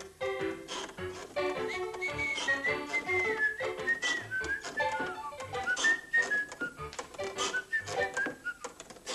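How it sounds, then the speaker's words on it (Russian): Someone whistles a wavering, sliding melody for several seconds, with soft clicks and taps underneath and no talking. "Не свистеть, денег не будет."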